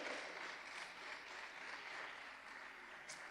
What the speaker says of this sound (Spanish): ¿Qué le parece si le damos una ofrenda de palmas al Señor por esa misericordia?